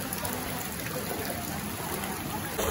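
Floodwater rushes along a flooded road during the Kullu Manali floods, a steady, dense wash that carries on without a break from start to finish and sounds close by.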